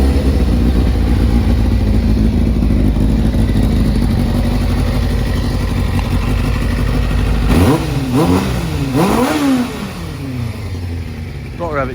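A 1997 Kawasaki ZZR600 motorcycle engine, freshly fitted with rebuilt and balanced carburettors, runs close by at a steady idle, then is blipped through several quick revs that rise and fall before easing back.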